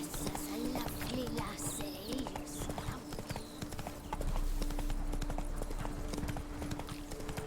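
Roach, the horse in The Witcher 3, gallops in a steady, rapid clip-clop of hooves over game ambience, with a player talking over it.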